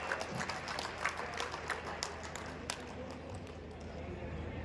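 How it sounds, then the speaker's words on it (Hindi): Crowd applause welcoming a guest at the stage program of a livestock fair, scattered clapping with sharper individual claps at moderate distance, fairly faint, with a low background rumble. "ये पूरी सरदारी एक बार जोरदार तालियों से स्वागत करें"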